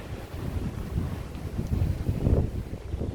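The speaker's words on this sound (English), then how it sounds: "We're out here in the wind." Outdoor wind buffets the microphone in uneven low rumbling gusts, fairly faint and steady, with no talking.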